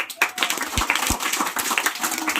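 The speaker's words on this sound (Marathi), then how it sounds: "टाळ्या वाजवा" An audience claps together at a lecture on Subhash Palekar natural farming, a dense burst of overlapping hand claps with a few louder, sharper claps near the start, filling the short moment.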